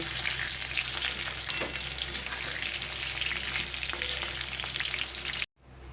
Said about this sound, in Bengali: প্রতিটা পটল আমি সুন্দর করে ভেজে নেব